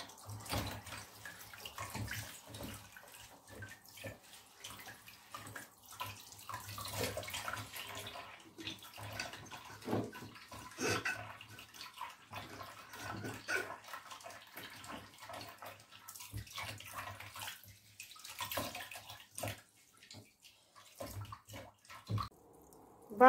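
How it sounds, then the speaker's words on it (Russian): Tap water runs into a jar packed with cucumbers for pickling, a steady close splashing and gurgling stream that keeps going with small fluctuations and no talk. "дальше вот так вот наливаем воды из-под крана, так, чтобы прям вот стекало"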